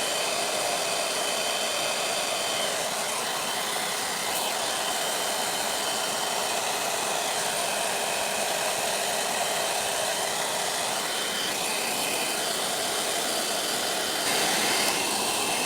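A hair dryer blows steadily at close range to dry glue over napkin art on paper, a constant loud whirring rush with no pauses and no voices.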